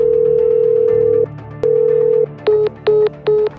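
A telephone call rings out with a steady tone, a short gap and a second long tone, then breaks into three short clipped beeps as the call is cut off, all loud and close with no voices.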